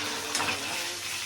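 Pabda fish fry in hot oil with a steady, dense sizzle that sits close and fairly loud throughout, broken only by a brief spatter near the start.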